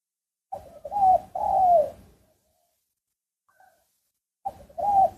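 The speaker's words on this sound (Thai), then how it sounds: "มีนกขันหลอดอยู่ครับ" A dove cooing nearby, two quick rounds of soft, throaty coos, then a pause before another round, heard clearly with no talking.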